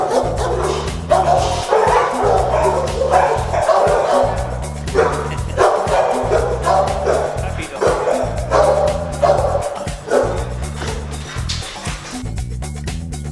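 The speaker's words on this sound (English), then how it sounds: "This is our large dog area. We've got, I think, 18 cages here." Many dogs bark and yip in a steady, overlapping chorus inside the large dog area of an animal shelter lined with about 18 cages, loud and continuous throughout, with a person speaking over the din.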